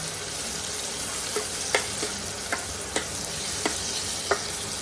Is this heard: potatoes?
yes